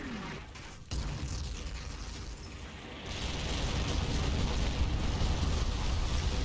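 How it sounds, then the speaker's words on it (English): Artillery barrage explosions in the war game Combat Mission, set around Monte Cassino, crash onto a ridgeline. A sharp blast lands near the one-second mark, then dense rumbling impacts build into a sustained, loud roar of shelling. "My initial barrage starts to fall on the Angelo ridgeline."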